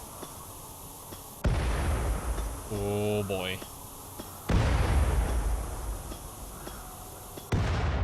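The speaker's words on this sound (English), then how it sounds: "That should be the last explosion." Explosions in the video game Rimworld come as three abrupt, heavy booms spaced a few seconds apart, each with a rumbling tail. Someone briefly speaks between them.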